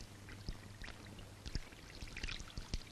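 Water is poured out and left to run to waste, a faint, close splashing flow broken by a few sharp drips and knocks over a quiet background.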